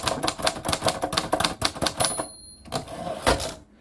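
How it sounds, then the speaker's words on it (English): Rapid mechanical keystrokes of a typewriter clatter in a quick, uneven rhythm, close up, with a brief pause near the end. "It's like Hit the typewriter."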